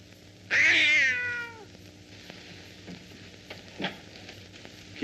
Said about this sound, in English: Here, kitty, kitty, kitty, kitty.